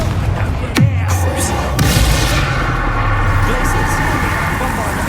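Blast of the Confringo fire spell in Hogwarts Legacy: a sharp bang near the start and a second burst soon after, over a dense, steady bed of game noise and music.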